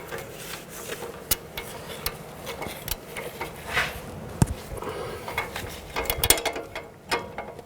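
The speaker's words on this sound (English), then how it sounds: "Now I'm going to remove this nut. I'm going to use an 18mm wrench and a 6mm hex head" An 18mm wrench working a strut nut loose on a 2007-11 Honda CR-V, with repeated metallic ratcheting clicks and scraping, close and moderately loud.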